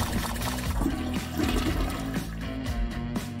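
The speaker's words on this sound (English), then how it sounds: "they're flushing a fucking toilet" A toilet flushes, a gurgling rush of water that churns steadily for several seconds at moderate level, with no talk over it.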